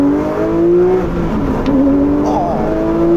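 A Porsche 911 S/T engine revs hard, its pitch climbing, dipping briefly at a gear change, then rising again, loud and close.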